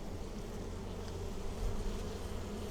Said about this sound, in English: A lot of bees on there.